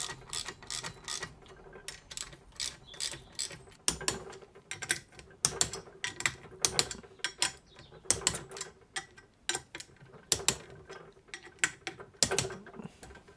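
Sprocket carrier bolts on a Yamaha XJ6 motorcycle being tightened in a star pattern, with a ratchet wrench clicking in rapid close bursts separated by short pauses.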